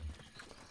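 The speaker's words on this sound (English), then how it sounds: "bokoblins on friggin' horses" Horses clip-clopping in Breath of the Wild as mounted bokoblins approach, a brief burst of hoofbeats with a whinny, faint and quick beneath game ambience.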